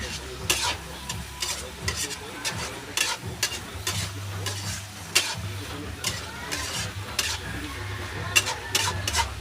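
Bitter gourd (ampalaya) sizzling in a frying pan while it is stirred, with close, repeated scraping strokes over a steady crackling fry. No one speaks.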